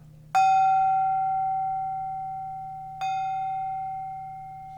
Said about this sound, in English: Here's a 5-inch version of the chow, which has a very bell-like tone.